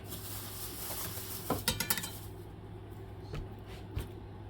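A knife chops through an onion on a board, a quick cluster of several cuts followed by a couple of isolated knocks, fairly quiet against a steady kitchen hum.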